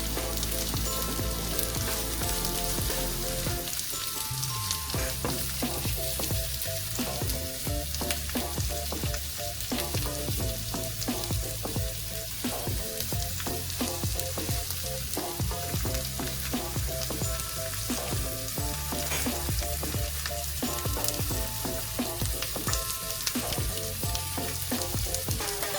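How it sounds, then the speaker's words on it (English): Onions roasting in a pan for a Kerala mutton stew garnish, cooked until crisp and golden brown: a steady, dense sizzle runs throughout under a continuous layer of tonal background music, with no pauses. "I'm going to really roast the onion well until it turns slightly crispy or completely golden brownish"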